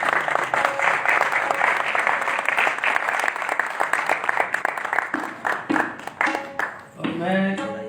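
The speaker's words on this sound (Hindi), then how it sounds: "आप उन्हें अपनी तालियों के साथ भी उन्हें अपनी मोहब्बत जाहिर करें" Audience applause before a tabla performance, a dense steady clapping that fills the room, thinning into scattered claps near the end as speech begins.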